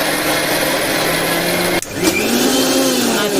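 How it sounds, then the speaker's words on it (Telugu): A mixer grinder blends soaked lentils and jaggery with a loud, steady whirring roar; the motor briefly cuts out partway through, then spins back up with a rising whine and runs on. No one speaks. "మిక్సీకి వేసుకుందామండి."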